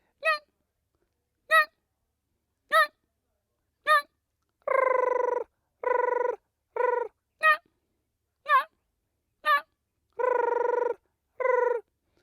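A voice imitates an animal call: short chirping yelps spaced about a second apart, mixed with a few longer, buzzier hoots, with no other sound.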